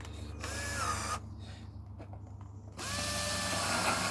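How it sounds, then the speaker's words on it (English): A power drill whines through plastic from a bird box made of plastic waste, in two bursts of rising pitch separated by a quieter pause, close and loud. "I need a better drill, I think."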